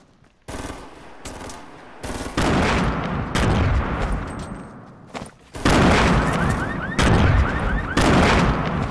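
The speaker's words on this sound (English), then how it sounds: "they're firing at me north" Rapid bursts of automatic gunfire and booming explosions in a Fortnite Season 5 match, loud and dense, coming in several heavy volleys with brief lulls between.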